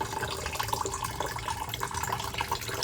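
Distilled water mixed with a Red Line Water Wetter coolant additive is poured, giving a steady, close, splashy trickle with bubbling gurgles throughout and no speech.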